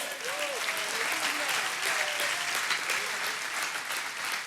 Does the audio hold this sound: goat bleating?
no